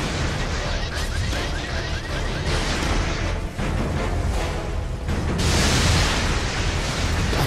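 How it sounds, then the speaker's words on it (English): Loud, continuous explosions and crashing blasts from the inFAMOUS video game, rumbling densely for the whole stretch with a brief dip midway and a stronger surge near the end. "I guess I'm the one setting off all these explosions."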